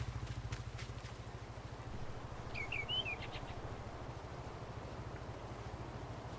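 Woodpeckers call in the Farming Simulator 19 video game: a brief, faint series of chirps rises over a steady low engine idle that continues underneath.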